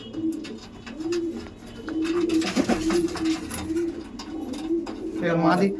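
Pigeons coo in a repeated rolling rhythm, close and steady, among flying pigeons kept for sale, with someone talking over them and a brief flutter near the end.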